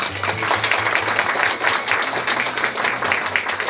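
Audience applause greets a decorated combat veteran, a major of the 72nd Mechanized Brigade, at a Ukrainian Unity Day gathering; steady crowd clapping runs throughout, with a low rhythmic hum beneath.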